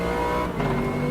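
A GT3 race car in Automobilista 2 roars steadily at high revs, its engine note dipping briefly in a quick downshift before droning on, loud and close from the cockpit.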